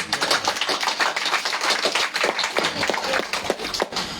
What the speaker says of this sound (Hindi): आप सभी से हम आग्रह करते हैं कि एक दूसरे के लिए हम जोरदार ताली दें।